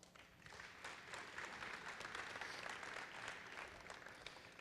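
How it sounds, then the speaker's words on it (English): An audience at a high school athletic signing event applauds steadily, a soft, fairly distant wash of many hands clapping that holds evenly for several seconds. "Give her a round of applause."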